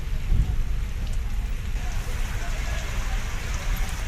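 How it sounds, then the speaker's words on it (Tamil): Heavy rain pours steadily across the Delta districts, a dense, close hiss and patter of drops with a low rumble underneath, continuous and fairly loud. "கனமழை பெய்து வருவதால் குளிர்ச்சியான சூழல் நிலவுகிறது"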